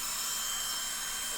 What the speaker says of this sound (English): I'm gonna vacuum up all this debris that came out